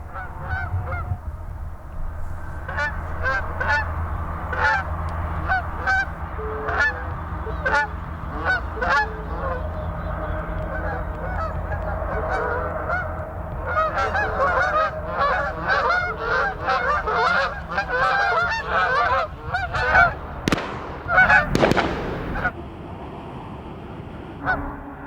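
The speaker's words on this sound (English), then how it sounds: "These Canada geese look a lot more promising." Canada geese honk repeatedly in flight, a flock of loud nasal calls overlapping in an irregular chorus that builds and thickens, ending in a brief louder burst before fading.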